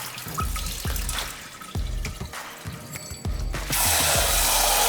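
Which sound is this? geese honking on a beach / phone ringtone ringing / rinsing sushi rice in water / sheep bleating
rinsing sushi rice in water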